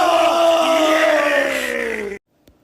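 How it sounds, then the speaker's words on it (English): A wrestling arena crowd roars in a dense, sustained wall of booing and cheering that cuts off abruptly into silence. "Some are booing, some are cheering, but nevertheless, there's pandemonium tonight."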